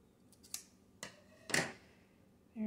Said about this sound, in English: I'm going to cut the top of this one off